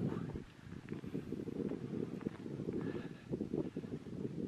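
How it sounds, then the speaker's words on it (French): Wind gusting outdoors during a 29 km trail race on a hot day, a continuous low buffeting rush against the microphone that rises and falls throughout. "Il y a un peu de vent là à l'instant"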